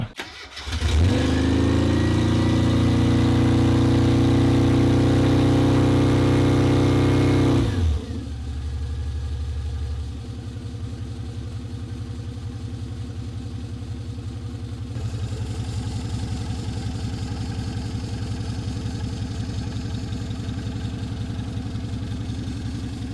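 A classic Mini's engine, starting for the first time in two years with the choke pulled out, cranks briefly, catches and revs loudly, then drops to a steady, rough idle that runs on nearby.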